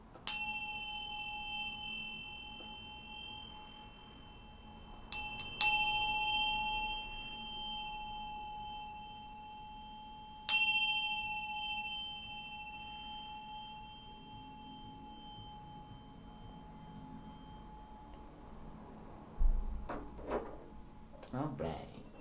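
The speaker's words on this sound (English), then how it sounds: "I'm going to ring this bell to bring just some good vibrations in here to get us all grounded" A bell struck three times, each clear, sustained ring fading slowly in a quiet room, with a person beginning to talk near the end.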